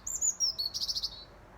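Small birds chirp outdoors in quick high tweets, a short burst of rapid trilling calls, fairly faint against a quiet background.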